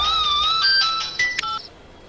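A telephone rings in a Hindi film scene with an electronic ringtone, a wavering melodic tone stepping through a few pitches over about two seconds, fairly loud and close, with no talk.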